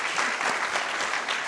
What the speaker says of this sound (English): round of applause for the stateroom team